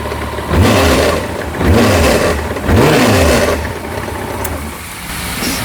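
A Kawasaki motorcycle engine with the clutch pulled rattles internally as it is blipped three times in quick succession, each rev rising and falling before it drops back to a rough, close idle.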